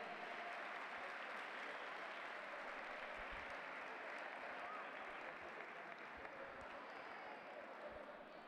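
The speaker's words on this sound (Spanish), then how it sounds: "Ese aplauso para él" A crowd applauds a young lightweight wrestler at a Leonese wrestling team-league final. The clapping is dense and steady, a continuous wash of hands from start to finish.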